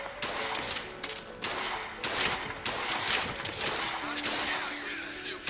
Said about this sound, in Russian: Какая-то стрельба там слышна